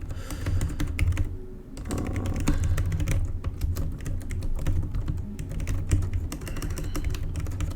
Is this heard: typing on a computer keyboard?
yes